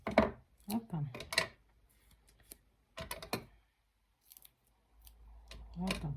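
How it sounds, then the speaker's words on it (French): Several quick crisp snips of scissors cutting paper for a handmade card in short bursts, with pauses between, close and fairly quiet. "je vais peut-être prendre une paire de ciseaux"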